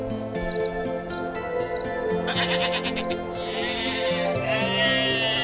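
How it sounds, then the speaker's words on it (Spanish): Sheep bleat repeatedly over a steady tonal backdrop in a nativity scene with shepherds watching their flocks near Bethlehem at night; several bleats sound close and loud, with no talking. "algunos pastores estaban vigilando a sus rebaños de ovejas"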